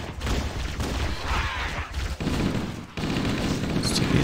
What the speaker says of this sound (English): Let's take these guys out with my assault rifle.